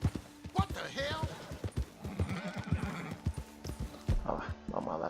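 A horse in the Red Dead Redemption 2 video game whinnies loudly while its hooves clip-clop steadily, with game sounds and voices mixed in around it.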